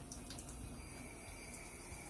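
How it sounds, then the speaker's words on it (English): A bathroom sink faucet runs lukewarm water in a steady, quiet, continuous hiss and trickle, heard alone without talk. "I'm turning on my sink with lukewarm water."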